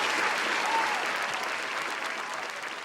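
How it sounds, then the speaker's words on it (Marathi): Audience applause for a guest at a Marathi comedy show, dense continuous clapping that stays loud throughout and tapers slightly toward the end, with no talk over it. "एकदा जोरदार टाळ्या झाल्या पाहिजे मॅडमसाठी"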